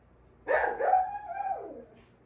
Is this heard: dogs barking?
yes